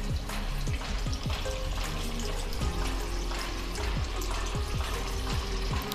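Sabudana vadas drop one by one into hot oil in a kadhai and fry with a dense, continuous bubbling sizzle, close and steady, with a few sharp crackles.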